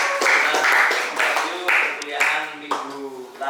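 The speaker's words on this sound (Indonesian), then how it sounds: "Kita kasih aplaus buat Mbak" An audience at a lecture on Quranic recitation readings applauds a female presenter, a steady wash of clapping with a voice speaking over it throughout.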